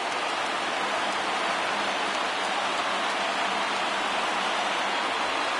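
A stadium crowd of over 38,000 roars on its feet in the MLB The Show 19 baseball video game, during an Oakland at Los Angeles Angels game. It is a steady, dense wash of cheering noise with no let-up throughout.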